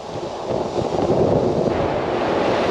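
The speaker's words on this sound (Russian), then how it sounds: "Ветер, остановись, пожалуйста." Strong wind buffets a stormy seafront promenade in Crimea, a steady loud roar with surf mixed in, continuous and close to the microphone throughout, with no talking.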